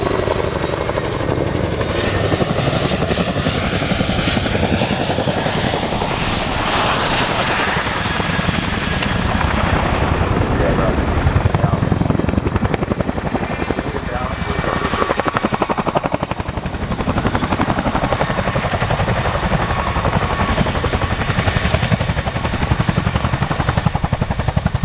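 A Royal Air Force Chinook helicopter flying a role demonstration at the RAF Cosford Airshow gives a loud, continuous rotor thudding and engine roar that swells and fades as it passes.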